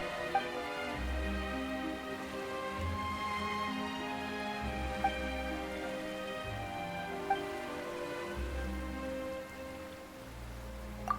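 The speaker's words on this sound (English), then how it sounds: "Why is it raining all of a sudden?" Rain falls in the video game Genshin Impact, a soft, continuous patter over a steady musical background, with no talking.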